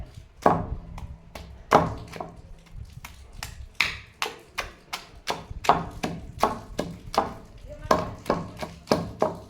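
A knife chops an onion on a board, around twenty sharp, crisp strikes in a steady rhythm with small pauses, close and clear, with quiet speech in the background.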